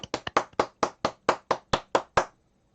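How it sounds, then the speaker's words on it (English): Twelve crisp hand claps ring out alone in a quick, slightly uneven rhythm, close and fairly quiet, a small round of applause from a few people that stops abruptly. "I think we need a little round of applause there for Justin."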